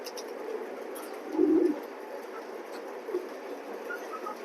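Low, soft cooing of racing pigeons rises briefly and then fades, over a steady background hum.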